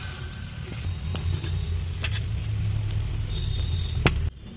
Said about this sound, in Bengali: দেখুন ডিমটাও এইভাবে ভেজে নিয়েছি